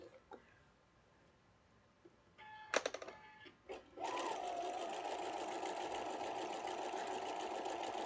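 Sewing machine stitching foundation paper piecing: after a few quiet handling taps and short bursts of stitching, the machine runs steadily with a fast, even mechanical whir and needle clatter, close and continuous.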